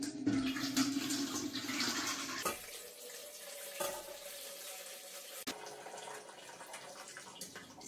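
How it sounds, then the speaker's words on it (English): Water pours out of a thick glass jar held in a towel, a steady gushing splash that shifts in tone as the jar empties and ends with a few thinner trickles. It is faint and close, with no voices. "Or you can use a towel and pour it out like this."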